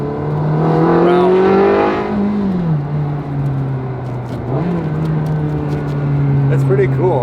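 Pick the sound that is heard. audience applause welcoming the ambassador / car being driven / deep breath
car being driven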